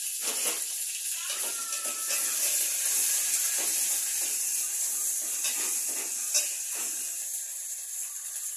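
Onions and green chilies fry in a hot pan with a steady, bright hiss and sizzle. Faint intermittent clicks from stirring sound close by, and no one speaks.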